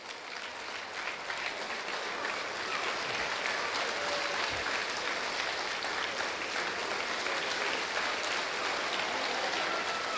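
An audience at a speech claps loudly and continuously, a dense, rain-like wash of many hands that builds slightly and holds steady for several seconds.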